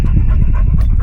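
A pet dog named Bixie pants hard and close, quick rhythmic breaths filling the short moment alone.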